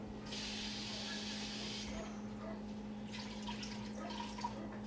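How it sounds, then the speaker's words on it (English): Fresh kale rinsed under running tap water: a close hiss of flowing water for a couple of seconds, then quieter rustling and dripping, with a low steady hum underneath. "Always want to wash the kale."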